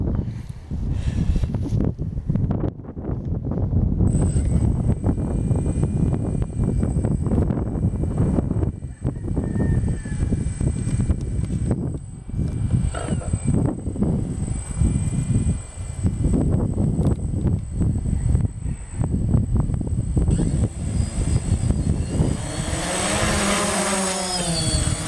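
A DJI Phantom drone's motors spin up and hold a steady, close buzzing whine with a high tonal hum, while wind buffets the microphone in heavy broadband gusts; the pitch shifts near the end.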